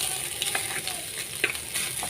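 Cooked rice tipped onto frying vegetables in a pan for fried rice, with a steady sizzle and several quick scraping, tossing stirs close by.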